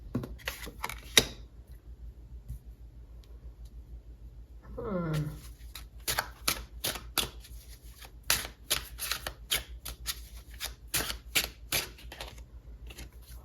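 A tarot card deck being shuffled by hand, with crisp riffling flicks and snapping card sounds in irregular bursts, fairly close and quiet, with a brief soft hum partway through.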